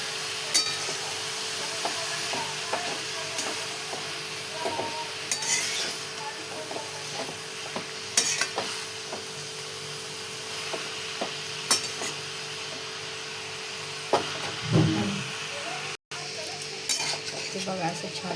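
A spoon stirs and mixes a vegetable dish with peanuts, chillies and garlic in a pan, scraping and clinking at a steady pace over a faint sizzle, with occasional sharper metallic taps.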